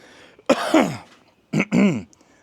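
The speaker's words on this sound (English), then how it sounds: "let me clear my throat." Two rough throat clearings, one after the other with a brief pause between, close and fairly loud.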